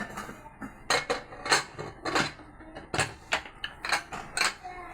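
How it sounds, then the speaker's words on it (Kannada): A lid closes on a pressure cooker of mushroom pulao with a series of close metallic clinks and taps in an uneven rhythm, with faint voice in the background. "ಸೊ ಲಿಡ್ ಕ್ಲೋಸ್ ಮಾಡಿ ಮೀಡಿಯಮ್ ಫ್ಲೇಮಲ್ಲಿ"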